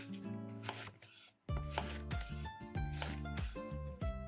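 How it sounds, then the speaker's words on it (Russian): A knife chops zucchini into long bars on a board, a run of quick, close, crisp strikes in an uneven rhythm, with a short pause before the cutting resumes. "300 грамм кабачков тоже нарезаем длинными брусочками."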